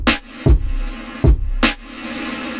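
Drum loop played through the KSHMR Reverb plugin's Hall V1 algorithm, a darker, vintage-style hall reverb: punchy kicks and snare hits with a washy tail filling the gaps, close and alone.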